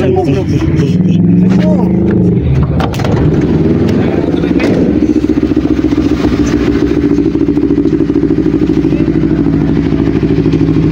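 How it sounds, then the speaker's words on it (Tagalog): A big bike's large motorcycle engine rumbles close by, revving and then settling into a steady idle, with people talking over it. "Big bike na bro. Ibang motor yan, ani Gracia"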